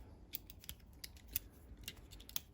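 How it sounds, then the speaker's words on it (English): Several quick, crisp snips of the small spring-loaded scissors on a Ruike multitool, close and fairly quiet, in an irregular run of clicks. "The scissors themselves also spring loaded, quite nice and heavy duty."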